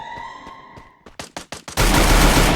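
Gunfire in the Free Fire video game: a rising whine gives way to several quick separate shots, then a loud continuous burst of rapid fire.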